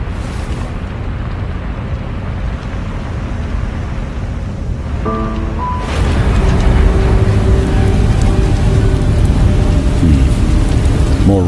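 Steady heavy rain in the video game Beast of Reincarnation, a loud continuous wash that swells midway as a deep thunder rumble rolls in, with brief tonal game sounds over it and no talk.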